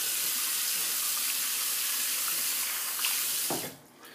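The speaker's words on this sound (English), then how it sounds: "Just clean off the soap container here, get some of the extra lather off there." A shaving soap container is rinsed under a running tap, water hissing steadily and close before the flow is shut off near the end, leaving a few drips.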